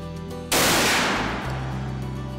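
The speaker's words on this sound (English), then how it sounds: "I got to go shoot my gun." A single loud hunting rifle shot during a test-firing before a deer hunt, a sharp crack followed by a long, decaying rumble over a steady low background hum.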